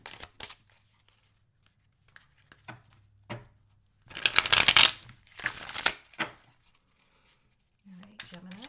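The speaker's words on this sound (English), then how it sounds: "let me just give it a little bit more of a shuffle for you" Tarot cards are shuffled by hand in two loud riffling bursts, set among soft taps, quiet gaps and a brief voice near the end.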